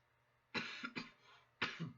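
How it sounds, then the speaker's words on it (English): Three short, dry coughs from one person: two close together, then a single cough after a pause. They are quiet and clear against a near-silent background. "That's why I was coughing up too much"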